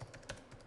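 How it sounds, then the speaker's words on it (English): Keys typed on a computer keyboard while text is entered into table cells, a quick run of close, crisp clicks with one slightly louder keystroke partway through. "Let's type something in here"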